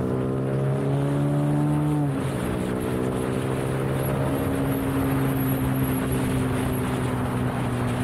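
Zontes 155 G1 Scrambler motorcycle accelerating, a steady, loud engine note that climbs in pitch, drops briefly at a gear change, then pulls up again and holds through the next gear with constant road and wind noise.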